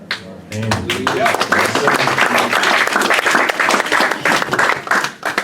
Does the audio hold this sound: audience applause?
yes